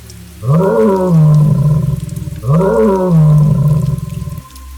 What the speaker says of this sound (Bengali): তারপর সে জোরে জোরে গর্জন করতে থাকে।